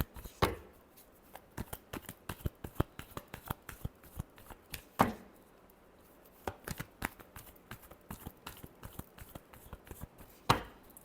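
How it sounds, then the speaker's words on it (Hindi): Tarot cards being shuffled by hand during a reading, a steady run of quick, close papery riffles and slaps with a few sharper card snaps, no talking. "last shuffle"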